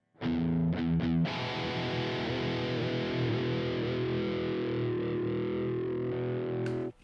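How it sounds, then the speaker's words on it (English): Distorted electric guitar notes and chords with a whammy bar bending the sustained pitch, wavering and swooping for several seconds before stopping abruptly; loud and alone with no talk. "whammy bar. It sounds like this."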